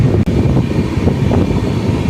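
The Puri–Howrah Vande Bharat Express, train 22896, thunders past at close range as a loud, steady low rumble with rushing wind buffeting the microphone throughout.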